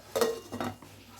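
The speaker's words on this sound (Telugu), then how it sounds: "ప్లేట్ పెట్టేస్తున్నాను" A metal plate is set down onto a chicken dum biryani pot, giving two or three quick clinking, ringing knocks close by in a quiet kitchen.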